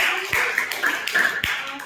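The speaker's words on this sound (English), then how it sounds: "clap for yourself" A few scattered claps during an online chemistry class, the moment after the teacher finishes going over polyatomic ion symbols such as nitrate; the hand claps are sparse and moderately loud, with tapping-like transients.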